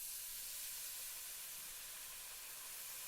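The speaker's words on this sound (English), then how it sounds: "Just sizzle." Water poured into a hot pan for cooking rice gives a steady, loud hissing sizzle that stays even and continuous throughout, with no pauses and no voices.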